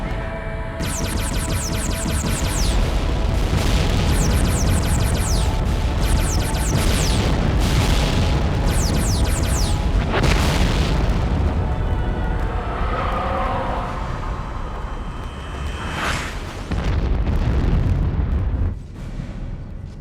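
Loud sci-fi movie weapon fire: rapid bursts of descending laser-like zaps repeat for several seconds, mixed with heavy booming explosions and a rumbling roar that fades before a final blast.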